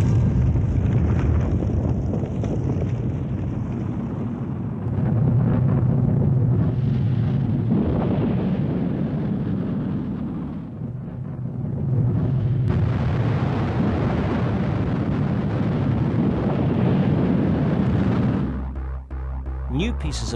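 A rocket launch at Peenemünde gives a sustained, loud, rumbling roar that swells and fades across the stretch before cutting off near the end, with a voice talking over it.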